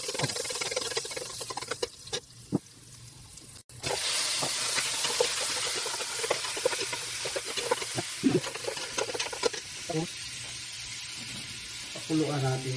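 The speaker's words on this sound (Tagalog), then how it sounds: "Tapos ngayon, igigisa natin sa bawang para mas maganda." Garlic sautéing in a hot pan for Filipino beef nilaga, a loud steady hiss and sizzle with crackling pops throughout, briefly cut off partway and resuming, while a voice talks faintly underneath.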